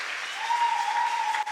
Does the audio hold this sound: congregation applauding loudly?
yes